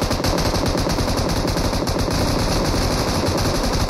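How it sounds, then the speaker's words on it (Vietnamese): Two M249 light machine guns trade continuous bursts in a PUBG Mobile match, a dense, loud, unbroken rattle of automatic fire lasting several seconds without speech. "Hai cây M249 dã nhau."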